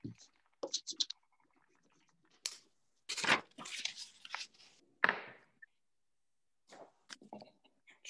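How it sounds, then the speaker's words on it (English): Scissors snip and scratch through paper, cutting along a horizon line for a landscape collage. The cuts come as faint, irregular short bursts, with quiet speech between them. "take your scissors and obviously chop along the ridge of the horizon"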